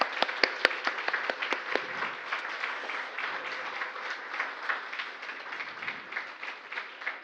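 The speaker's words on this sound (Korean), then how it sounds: "박수를 한번 드리도록 하겠습니다" A church congregation claps together, sharp distinct claps at first blending into steady, moderately loud applause that carries on throughout.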